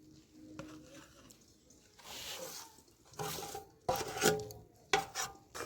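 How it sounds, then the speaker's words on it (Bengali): Date palm jaggery goes into a cooking pot while making dudh puli pitha, with scattered soft scrapes, clinks and wet stirring knocks coming close and at moderate volume in short bursts. "দিয়ে দিচ্ছি খেজুরের গুড়।"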